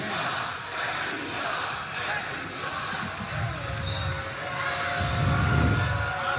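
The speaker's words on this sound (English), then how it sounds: "This crowd doesn't like it." At a college basketball game, Boise State at Utah State, an arena crowd swells into a loud, rumbling roar of disapproval at a foul call, building in two surges beneath a commentator's voice.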